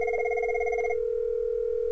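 Cisco 7940 IP phone on a FreePBX system ringing: steady electronic ring tones with a warbling pulse for about the first second, then a sustained tone continuing alone, close and clear with no talk.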